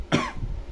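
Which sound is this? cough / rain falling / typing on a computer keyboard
cough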